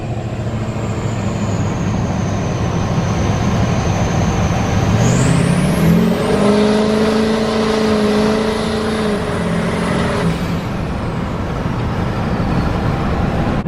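Tuned Duramax diesel truck engine on a Canadian back road, a steady loud drone that rises in pitch as the truck accelerates midway, holds a higher note, then eases off.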